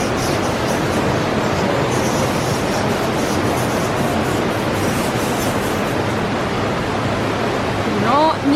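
A waterfall with bat caves nearby, on a road trip between Fethiye and Antalya in Turkey, roars as a loud, continuous, broadband rush that holds steady throughout and is briefly joined at the end by a faint higher sound.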